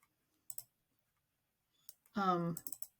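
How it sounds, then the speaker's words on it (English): A computer mouse is double-clicked while drafting in SolidWorks: two quick, close clicks, followed by a brief spoken remark. "All you do is double click."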